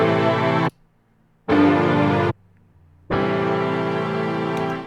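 Rearranged strings run through a shaper box effect play in three loud sustained bursts separated by sudden silent gaps, with the chopped, rhythmic gating plainly audible and no voices.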